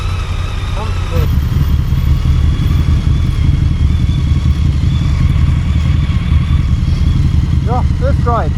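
A BMW motorcycle engine on its first ride drones steadily and loudly close by, with a rough, even throb throughout and brief higher chirps near the start and end.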